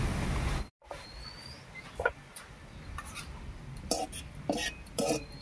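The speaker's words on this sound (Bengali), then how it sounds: "এবারে ঢাকা খুলে নামিয়ে নিচ্ছি।" A cooking pot of boiled taro leaves has its lid lifted and is taken off the stove, giving a few light metallic clinks and knocks spread over a quiet kitchen background.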